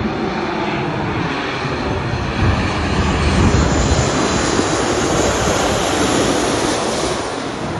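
A fixed-wing airplane roars past near Changi Airport Park, its loud, broadband engine noise holding steady and swelling slightly mid-pass with no talk over it.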